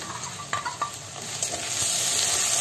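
Ground onion goes into a hot pan and sizzles, with a few quick utensil scrapes at first before the frying hiss swells and holds steady and close, no voices.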